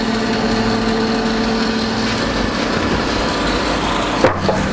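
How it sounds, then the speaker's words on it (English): A bandsaw cuts through a half log to make bowl blanks, giving a loud, steady whine and rasp with a humming motor that runs unbroken before the cut drops off abruptly near the end. "The main thing when you're cutting with a bandsaw"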